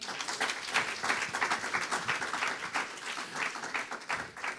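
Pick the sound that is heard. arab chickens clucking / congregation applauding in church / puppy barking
congregation applauding in church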